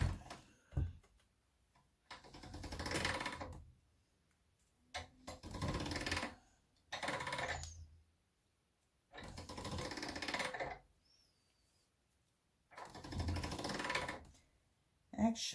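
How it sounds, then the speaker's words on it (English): A hand-cranked pasta-style machine rolls polymer clay through its rollers on a thickness setting, giving several separate bursts of grinding, clattering mechanical noise with quiet gaps between them. "I'll run it through the machine on a size 4"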